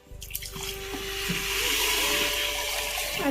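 Water pours steadily into a pot holding washed rice with cumin, curry leaves and chopped green chillies, a faint start building into a continuous splashing rush that stays loud to the end, with no talk.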